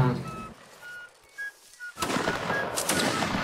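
Musket volleys ring out in a Napoleonic Wars line battle in Mount & Blade: Warband, a few sharp distant pops giving way to a dense, sustained crackle of gunfire at close range.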